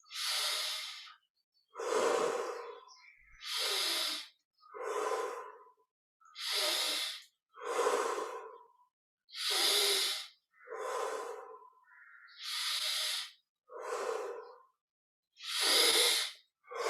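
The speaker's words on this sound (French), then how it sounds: "20 respirations profondes." Slow, deep breaths during a guided yoga meditation, each inhale and exhale a distinct airy rush about a second long, close and steady in an even rhythm, with no talking over them.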